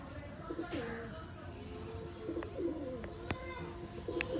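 Young pigeons of fancy breeds such as tipplers and giribaz cooing softly in repeated low calls, with a few sharp higher chirps, set against steady background noise.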